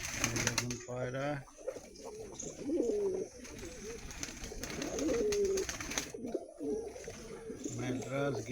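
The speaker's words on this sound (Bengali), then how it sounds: "ম্যাড্রাস, গিরিবাজ সব ধরনের পায়রাই রয়েছে এখানে, সব মেল" Male Madrasi and Giribaz pigeons coo in a loft, a steady murmur of low throaty calls repeating throughout, with a voice talking over them at times.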